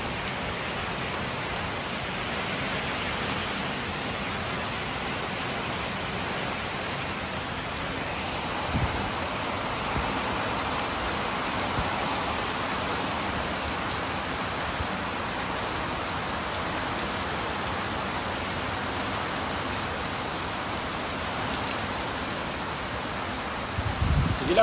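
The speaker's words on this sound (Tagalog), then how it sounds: "Maulan lang talaga yung panahon dito." Steady rain pouring down during a stormy morning, a continuous close hiss of drops on surfaces with no voices and an even level throughout.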